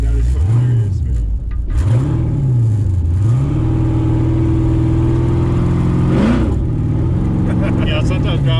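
A red 1969 Chevrolet Camaro with a supercharged 600 WHP engine rumbles close by, with several rising and falling revs followed by a sustained high idle, while someone talks over it.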